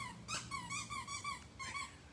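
Puppies whining, a few high, thin, wavering whimpers in short bursts, fairly faint and close, over a quiet background.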